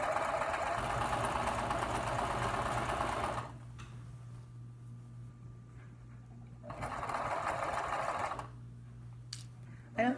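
A sewing machine stitching the sleeve of an eyelet lace summer tunic: a close, loud mechanical whir in two runs, stopping in between for quieter stretches with faint handling clicks.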